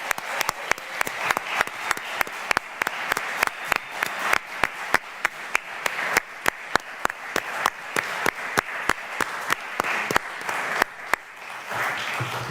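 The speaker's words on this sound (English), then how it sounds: "Let's give them a round of applause right now." An audience applauds competitors named to the US Cyber Team at a draft-day ceremony, a steady crowd clapping that carries on for about twelve seconds and thins out near the end.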